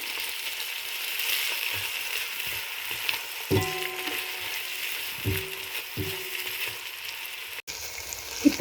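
A tomato rice mixture fries in a pan with a steady hiss and sizzle while a spoon scrapes and stirs it in a few distinct strokes, close up with no talking.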